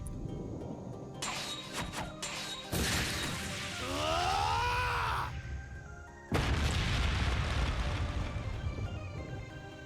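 Ungula barrage explosions in the video game Trails Beyond the Horizon, a chain of heavy booms and crashes with rising whooshing tones between them, ending in one loud sustained blast.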